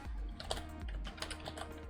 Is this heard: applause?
no